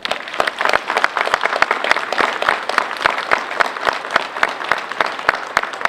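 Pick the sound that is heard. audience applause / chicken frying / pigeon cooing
audience applause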